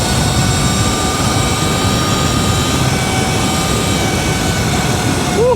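A Sur-Ron 72v electric dirt bike fitted with a 48-tooth sprocket rides along, its motor giving a steady high whine over a constant rush of wind and tyre roar.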